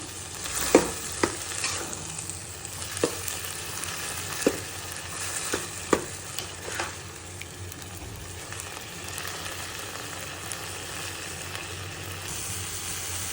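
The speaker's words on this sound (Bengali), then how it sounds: "এরপর কিমার সাথে বুটের ডালটা মিক্স করে দিলাম আরও কিছু উপকরণ মিক্স করব এটা তার আগে একটু কষিয়ে নিচ্ছি" Minced meat frying with chana dal in a pan, a steady sizzle running throughout. Intermittent spatula scrapes and taps sound close as the mixture is stirred.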